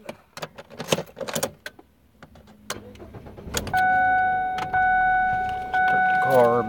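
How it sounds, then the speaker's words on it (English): A car is started after scattered handling noises and jangling keys: the engine cranks, catches and settles into a loud, steady idle, close by, with a whining tone rising near the end. "Start the car back up."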